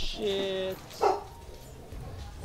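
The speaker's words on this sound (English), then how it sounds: "Sorry, that is my dog." A pet dog in a house gives a couple of sharp, close barks and a yip between short gaps, and a person mutters a word nearby.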